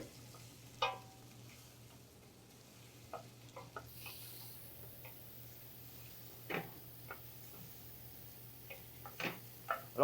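Peanut sauce being stirred in a pot over a lowered flame: faint scraping taps of a spoon against the pot come at irregular moments over a steady low hum and a quiet sizzle.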